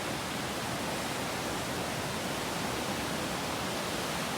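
A large river near Nonceveux rushes past in a dense, steady roar of flowing water, constant and close with no voices over it.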